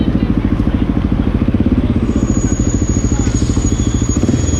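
A Honda XR650L motorcycle fitted with a Lexx exhaust idles close by, its single-cylinder thump pulsing in a fast, even rhythm throughout.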